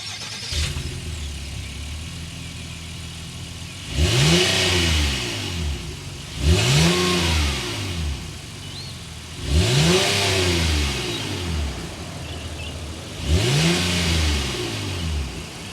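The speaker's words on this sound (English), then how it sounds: "V6 naturally aspirated. Let's go inside and hear that exhaust note." A 2022 Honda Ridgeline with a naturally aspirated V6 revving its exhaust: four separate rising and falling rev bursts from a steady idle, loud and close, with no talking.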